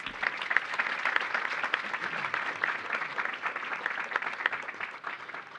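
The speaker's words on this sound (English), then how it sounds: "Let's give them a round of applause" Audience applauding current and former board members at a school finals event, steady dense clapping from a medium-sized crowd that holds throughout and begins to thin at the end.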